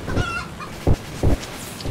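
Chickens in the vehicle combat game Doomsday Derby, giving a few short loud squawks spaced apart over a quiet hum of background noise.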